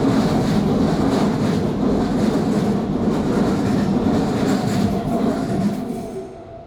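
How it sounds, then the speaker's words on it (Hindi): A train rushes past at close range with a dense, rumbling roar and faint rhythmic clatter, fading away at the end, used as a sound effect in an animated story. "रेलगाड़ी शंकर के बगल से निकल गई"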